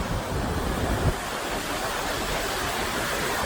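Murchison Falls on the Victoria Nile in Uganda, an immensely powerful waterfall, roars as a continuous dense wash of rushing water with a low rumble, with a brief bump of wind or handling near the start.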